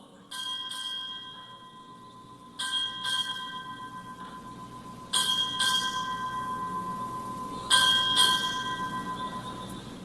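A ship's bell strikes eight bells at a US Indo-Pacific Command change of command ceremony, ringing in four evenly spaced pairs of bright, lingering clangs, each pair louder than the last.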